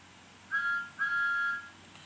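The fixed whistle of a toy Thomas the Tank Engine sounds as two short, clear, steady tones, the second one longer, over a faint background hum.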